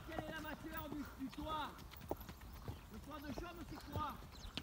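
Horses on a ride through the Camargue in France walk one after another, hooves clopping in an uneven rhythm at a quiet, moderate distance while someone talks over them.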